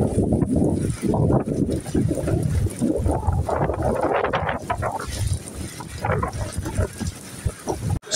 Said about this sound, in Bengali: সকাল হতে শুরু হয়েছে এই বৃষ্টি, সাথে ঝোড়ো হাওয়া।